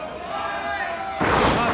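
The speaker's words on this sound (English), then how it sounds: "Oh, flying headbutt connects." A flying headbutt from the top rope lands in an Industrial Evolution Southeastern title wrestling match in Nashville, a sudden heavy thud followed by a swelling crowd roar under ongoing commentary.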